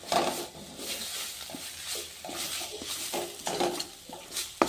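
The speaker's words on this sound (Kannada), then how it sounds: "ಈಗ ಇದನ್ನು ಎಣ್ಣೆ ಬರೋವರೆಗೂ ಫ್ರೈ ಮಾಡ್ಕೊಂಡು" Urad dal, chana dal, curry leaves and green and dry chillies fry in oil for an onion chutney, giving a steady close sizzle broken by repeated stirring scrapes and light clinks of a spoon against the pan.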